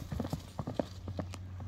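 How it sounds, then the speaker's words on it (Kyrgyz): Hooves of a racing horse being trotted out at a Kyrgyz horse sale clip-clop in a quick, uneven patter on hard ground, fairly close and moderately loud, with a faint steady hum beneath. "Чабылып жүргөн ат экен достор."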